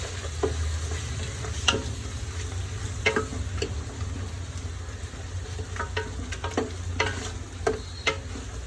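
Biryani masala with yogurt poured in sizzles steadily in a pan, with a low rumble beneath and sharp scraping stirs breaking through every second or so, close and with no talk.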